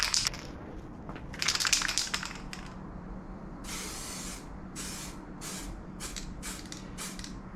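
Aerosol spray paint goes onto a wheel as a second coat, heard as bursts of sharp hissing from a can, some short and some held for longer, close by with clicks and rattles between them and no talking.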